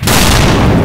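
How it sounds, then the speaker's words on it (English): A single heavy volcanic eruption boom hits hard and rolls on as a loud, sustained rumbling blast. "Krakatoa in Indonesia exploded with a blast that was so powerful"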